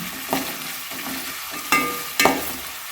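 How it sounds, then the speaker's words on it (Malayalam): Chopped onions frying for a chicken curry, stirred in a pan with a few distinct scraping strokes over a steady low sizzle, close and moderately loud. "സവാള സവാള ഇട്ട് നല്ലവണ്ണം മൂപ്പിച്ചെടുക്കുന്നില്ല ഒരു സാധാരണ രീതിയിൽ ഞാനത് മൂപ്പിച്ചെടുക്കുന്നതാണ്"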